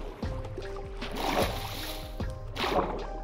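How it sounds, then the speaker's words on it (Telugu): Swimming through water in Minecraft, soft repeated splashing strokes roughly every second, fairly close and moderately loud, with low game background tones and no talking. "వాటర్లో ఫాస్ట్గా స్విమ్ చేయలేను నేను"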